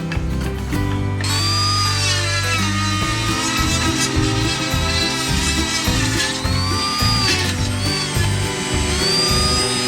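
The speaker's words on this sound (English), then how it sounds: "I think I'm gonna get a screwdriver, break this out, and Dremel tool the rest of it." A Dremel rotary tool grinds down the edges of a sailboat mast, giving a loud, continuous motor whine whose pitch rises and falls as it bites into the metal, with no talking.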